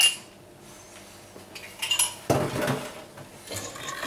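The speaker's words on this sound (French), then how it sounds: "Et on va bien mélanger ça." A spoon or whisk clinks and scrapes against a bowl while mixing eggs, sugar and melted butter, with a few sharp metallic taps and a louder rattling stretch partway through, close by and without talk.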